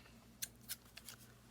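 Scissors snip through crochet yarn at a tote bag, four quick faint clicks spaced across a quiet moment with no talking.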